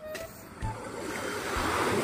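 Waves wash against a shoreline in a broad, hissing rush that builds over two seconds, fairly close, with a couple of soft low thumps and no talking.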